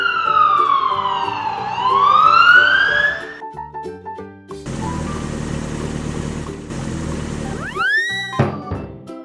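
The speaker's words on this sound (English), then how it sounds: "Black police car." A black police car's siren in a kids' cartoon sweeps down and back up in a loud wail over cheerful music, then gives way to a noisy rattling stretch and quick rising boing effects.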